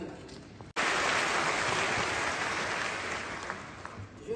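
Summit delegates at the 2024 FOCAC summit burst into dense, sustained applause after a brief pause, the clapping swelling quickly and then slowly thinning out.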